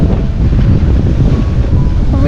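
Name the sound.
wind and sea swell while sailing a boat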